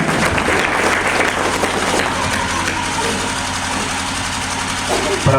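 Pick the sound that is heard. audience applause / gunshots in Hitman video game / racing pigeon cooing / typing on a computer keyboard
audience applause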